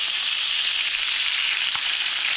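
Honey mustard chicken pieces crisping in a hot pan give a loud, dense, unbroken sizzle with a single faint pop near the end.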